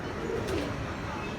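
Pigeons kept in a rooftop loft by a pigeon fancier coo softly, with one low, brief coo standing out faintly over a murmur of background noise.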